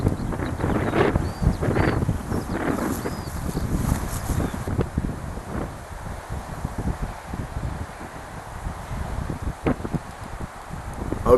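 Strong wind buffets the microphone and rushes steadily across a cliff top at a slope-soaring site, a continuous loud roar with gusty swells and no voices.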